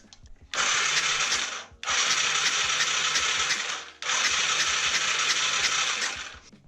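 A small ATV engine on a project machine, recently primed and fed through a new fuel line, runs in three short bursts. Each loud, rough buzz lasts one to a few seconds, with brief drops between them.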